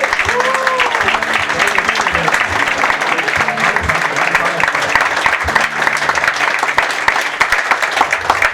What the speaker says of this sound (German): bitte begrüßt es mit einem ganz warmen Applaus